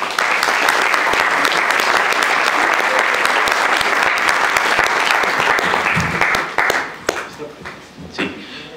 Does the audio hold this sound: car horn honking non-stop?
no